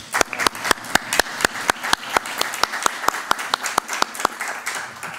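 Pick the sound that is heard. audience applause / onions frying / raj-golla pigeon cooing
audience applause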